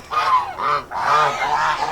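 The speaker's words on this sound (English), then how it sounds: "And the geese were really happy on the other side." Several geese honk loudly and close by in a garden, a run of nasal calls in two bursts with a brief pause between them and no talking.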